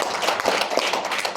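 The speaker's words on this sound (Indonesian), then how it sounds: "Tepuk tangan buat Medan." An audience clapping at an event in Medan, a dense, lively patter of hands at moderate loudness over a short burst, with no voices heard.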